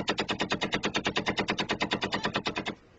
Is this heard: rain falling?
no